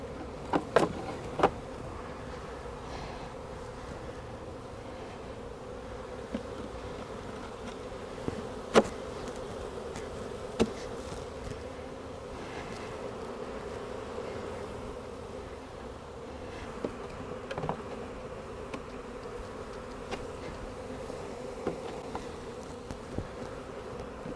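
Steady insect buzzing from a honeybee swarm around a hive, a continuous low hum with occasional faint clicks and knocks, at moderate level with no talking.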